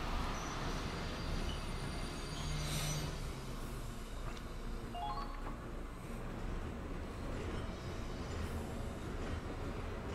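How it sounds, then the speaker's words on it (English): Trains rumbling past in the Valkyria Chronicles 4 video game, a steady heavy rolling roar with faint metallic wheel squeals, continuous and fairly close throughout. "Oh, trains are back."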